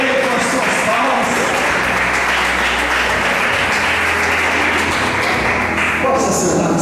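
A church congregation claps in praise during a worship service, producing a dense, steady roar of many hands that runs throughout, with low musical tones and a voice speaking over it.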